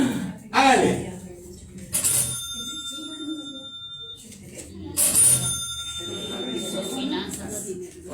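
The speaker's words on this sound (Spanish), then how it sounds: "Un timbre dañado." Two bursts of bright, ringing bell tones with long sustained overtones, each lasting a couple of seconds, mixed with a man's speech and background noise.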